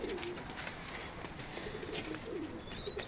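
Pigeons at a loft give low, soft cooing calls that come and go in a steady murmur, close by and moderately loud, with a faint higher chirp near the end.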